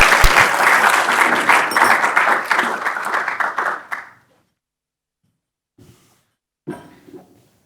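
A conference audience applauds a speaker taking the stage at a talk on eliminating nuclear weapons, a dense round of clapping that fades out after about four seconds, followed by silence and a faint shuffle.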